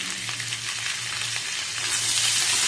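Square-cut capsicum and a whole tomato stir-frying in hot oil for restaurant-style chilli fish, a loud, continuous close sizzle with no talk, swelling slightly toward the end.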